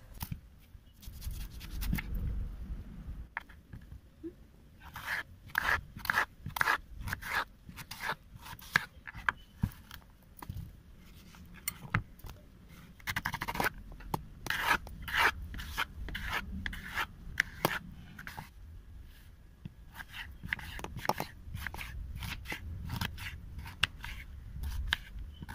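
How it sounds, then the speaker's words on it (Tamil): Musk melon is cut with a knife for juice, giving a long run of crisp, irregular slicing and scraping strokes, some in quick bursts, close up and fairly quiet with no talking. "பழமெல்லாம் கட் பண்ணி எடுத்தாச்சு"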